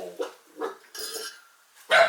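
A half Rottweiler, half Australian cattle dog puppy lets out several short, soft barks and yips in quick succession indoors, close by and fairly quiet, ending with a louder bark.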